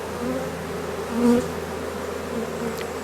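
A honeybee swarm crawling back into its hive after bad weather gives a steady, close buzzing drone throughout, with one bee flying nearer and briefly louder midway.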